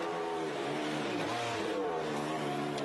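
Lance Stroll's Formula 1 car rejoins the track during second practice at the 2021 Austrian Grand Prix. A continuous high-pitched engine whine rises and falls under steady trackside noise, with no clear talk.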